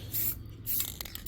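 Enamel paint hisses from an aerosol spray can in two or three short bursts with brief pauses between, close up and fairly quiet.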